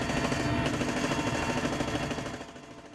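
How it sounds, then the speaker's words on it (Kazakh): A helicopter-mounted cannon fires at a target about two kilometres away during a border guard exercise on the Caspian Sea, a dense, continuous loud burst of gunfire that holds steady before fading toward the end. "Тікұшақ зеңбірегінен 2 шақырым жердегі нүктеге оқ атылды."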